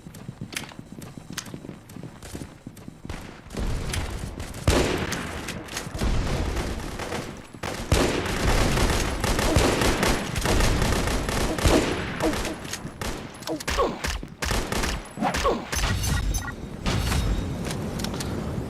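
Gunfire in the blocky shooter game Pixel Gun 3D, dense rapid bursts of shots that grow louder and more sustained partway through, rattling on almost continuously.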